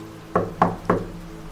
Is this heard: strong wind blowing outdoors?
no